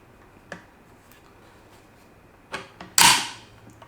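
The bolt of a Zastava ZPAP M70 rifle is pulled back and locked, giving a faint click, then a sharper metallic clack and a loud final snap as it catches, close up in a quiet room.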